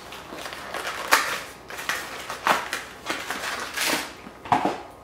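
A frozen Skyline chili and spaghetti package, recyclable paper with a plastic film, is torn and crinkled open in several sharp crackling bursts with brief pauses between, close up and without speech.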